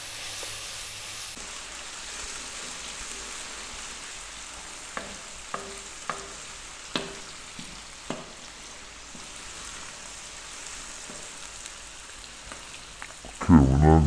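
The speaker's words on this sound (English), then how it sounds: "Really want to cook these tomatoes right down." Tomatoes cook down in a pan for a lentil dish, giving a steady soft sizzle and bubbling. A few sharp clicks of stirring break through, with a louder clatter near the end. No one talks.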